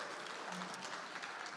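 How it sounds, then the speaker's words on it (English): A quiet, distant patter of audience applause at Rio Grande Valley Startup Week, soft and steady for a brief moment with no talking on top. "Everyone give a big round of applause here for day 5."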